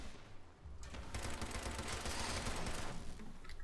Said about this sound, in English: you know I'm going to shoot it